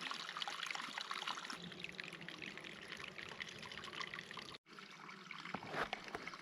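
Cold mountain stream water trickling and pouring into a bottle while hiking in Pisgah National Forest, a steady close splashing flow that runs continuously and briefly cuts out near the end.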